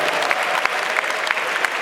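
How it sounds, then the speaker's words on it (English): Comedy club audience at a stand-up show applauding loudly, a steady dense roar of many hands with occasional accented claps and faint crowd noise. "Round of applause for Ghanian ladies."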